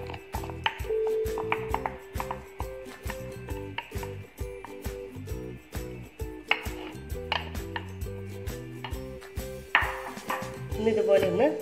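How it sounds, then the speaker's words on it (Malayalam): A pan of batter for a simple three-ingredient cake is tapped on a surface to release air bubbles, giving a long run of rapid, close, regular knocks with a metallic ring. "ഇതുപോലെ ഒന്ന് തട്ടിക്കൊടുക്കണം."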